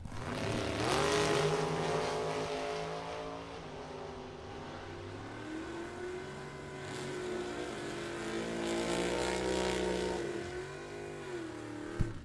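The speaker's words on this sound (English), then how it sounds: "What a drag race between Jay Allen and Eric Pavicic" Drag race cars roar off the line at a Super Pro bracket event, engines screaming loud and sustained with rising and falling pitch as they accelerate down the strip, ending in a sharp click.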